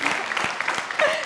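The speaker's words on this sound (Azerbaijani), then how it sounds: "istəyirəm ürəkdən alqışlayasınız bu insanı" A live audience claps for a guest called to the stage. The applause is brief, steady and fairly close.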